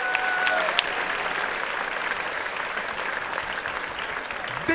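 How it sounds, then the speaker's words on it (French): A live comedy show audience applauds loudly and continuously, a dense wash of clapping that holds steady from start to finish. "On peut t'applaudir bien fort"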